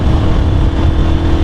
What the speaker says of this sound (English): Oh man, the exhaust note is just amazing on this motorcycle.